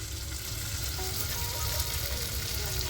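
Masala hitting hot oil in a pot for a one-pot arisi paruppu sadam rice and lentil dish, giving a loud, continuous close-up sizzle and crackle with no talking.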